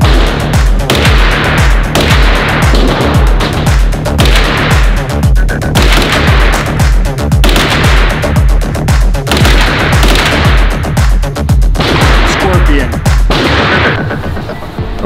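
Fully automatic guns fire at an outdoor shooting range, loud rapid bursts of close gunshots repeating almost without pause across the whole stretch, each volley cracking sharply and echoing.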